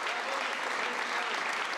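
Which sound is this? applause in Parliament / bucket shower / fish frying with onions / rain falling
applause in Parliament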